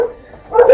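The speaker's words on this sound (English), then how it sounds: "A Lhasa Apso." A Lhasa Apso dog at a breeder's kennel gives one short, close bark near the end, after a quiet moment.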